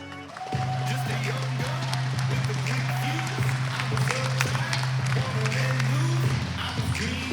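Audience applause for a youth female archer at the Lancaster Archery Classic finals: a steady, dense wash of clapping holds for several seconds over a low electrical hum, with a voice speaking over it.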